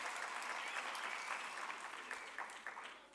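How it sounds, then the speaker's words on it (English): An audience claps at the official opening of the National Arts Festival 2022, a thick continuous wash of applause from a crowd, heard fairly faint and distant throughout. "Can we give them a round of applause?"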